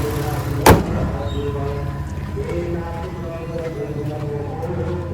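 A single solid thud as the door of a VW Touareg V6 rally raid car is shut, close and sharp near the start, followed by a low background hum and quiet talk.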